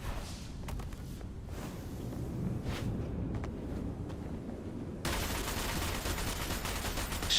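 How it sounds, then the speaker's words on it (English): Video game gunfire, shots fired at a target: scattered sharp bursts over a steady windy, rumbling backdrop, then a dense roaring spell of sustained noise in the last couple of seconds. "Shooting at it."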